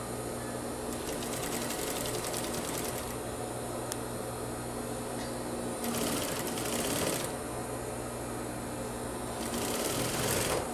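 A sewing machine stitches a shirt collar seam, its needle running in a fast, steady mechanical whir for several seconds, with brief pauses and restarts along the way.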